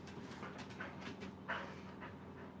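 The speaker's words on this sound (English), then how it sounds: "Everyone likes the dog on the stream." A dog named as a family pet pants softly and steadily with a faint whimper or two, the breathing close but quiet over a low background hum.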